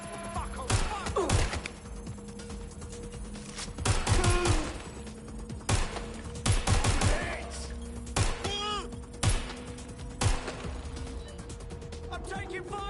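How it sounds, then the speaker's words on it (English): Gunfire in Watch Dogs: Legion, with repeated sharp shots and short bursts scattered through a noisy game scene, mixed with clanks, whooshes and a steady hum. "Shots fired!"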